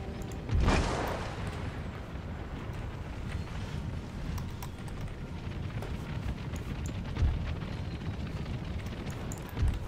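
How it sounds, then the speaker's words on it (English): Artillery in Empire: Total War fires three separate distant, muffled booms against a constant windy rumble of battlefield ambience, with no voices. "Let's divert some of this artillery fire into the camels"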